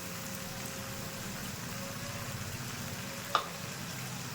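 Onions and spices for kabuli chana fry in a pan with a quiet, steady sizzle throughout, with one brief clink near the end.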